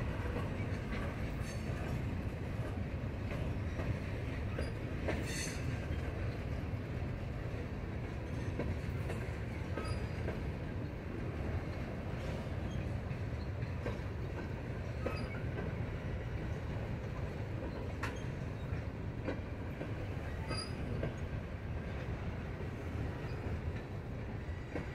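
NS 16R freight train rolling along the track through Buffalo, a steady continuous rumble of wheels and railcars with occasional clicks and faint squeals, heard at moderate distance without talking.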